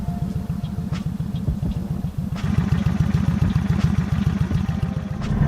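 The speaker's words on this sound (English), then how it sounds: "Exhaust sounds so freaking good on this thing." A 2022 Super Chief motorcycle with a 111 engine idles up close, its exhaust pulsing in a fast, loud, lumpy rhythm that grows slightly stronger partway through.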